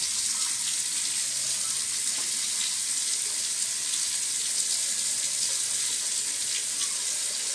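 Steady running water from a tap in a Roblox video game, a continuous even hiss that carries alone at moderate level without pause.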